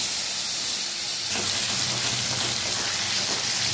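Ground bean paste frying in oil in a wok, a steady close hiss and sizzle that thickens slightly partway through, continuous and fairly loud with no voices.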